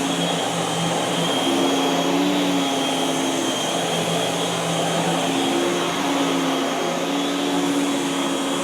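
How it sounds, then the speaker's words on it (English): A Miele S7 upright vacuum cleaner runs over carpet with a loud, steady motor roar and airy whine, close by and continuous throughout, with slight tonal shifts as it is pushed. "it grooms the carpet fairly nicely."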